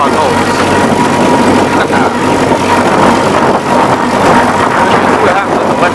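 A lawn mower engine runs loud and steady on a farm, a continuous close droning rumble, while a person speaks briefly over it.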